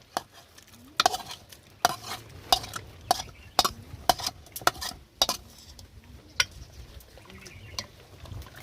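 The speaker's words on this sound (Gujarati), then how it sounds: "જે વઘાર આપણે કર્યો હતો એ આની અંદર નાખી દેવાનો છે" Repeated sharp scraping and clanking of a spoon against a pot as a tempering is stirred into dal, at an uneven rhythm, with faint sizzling and no voices.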